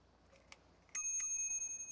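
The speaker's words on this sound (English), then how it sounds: "Bell." A bicycle bell lying among junk at a house rings out with a bright metallic ding after a few faint taps, its clear tone ringing on and decaying slowly alone.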